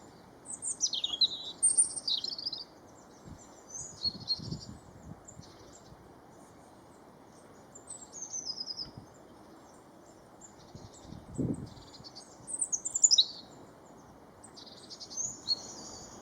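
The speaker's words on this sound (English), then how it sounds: "The wistful, beautiful notes of the robin," Thin, high European robin song in short wistful phrases, rising and fading with pauses, fairly distant over a quiet outdoor background in spring.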